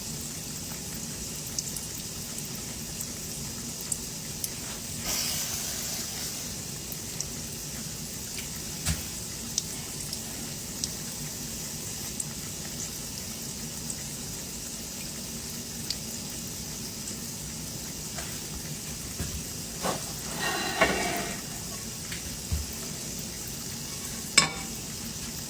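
Peach fried pies made from canned biscuit dough sizzle steadily in hot oil, a soft continuous crackle with a few faint clinks and bumps from handling.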